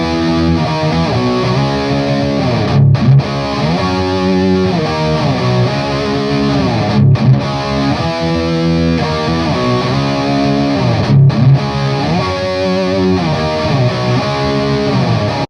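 Heavily distorted electric guitar chugging through a riff, loud and sustained with repeating phrases and short gaps between them, played alone without voices.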